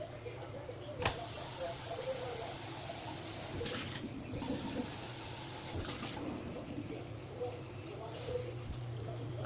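Water runs and hisses steadily into a cooking pot for several seconds, with a few brief louder splashes or bursts along the way.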